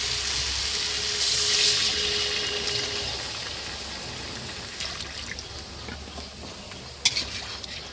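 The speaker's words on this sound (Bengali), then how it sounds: "এবার আমি জল দিয়ে দেব।" Water is poured into a pan of potatoes mixed with spices, a steady hissing pour and simmering sizzle that slowly settles, with a faint clink near the end.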